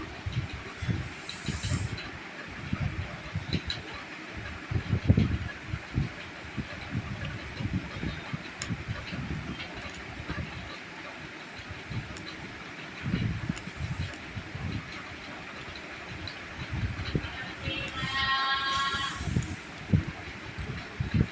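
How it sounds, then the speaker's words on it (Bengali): Washed vegetables hit hot oil in a kadai-style wok for a mixed vegetable bori curry, giving a steady broadband sizzle with scattered crackles and pops that stays loud and continuous throughout. "এবার আমি ধুয়ে রাখা সবজিগুলোকে কড়াইতে দিয়ে দেবো।"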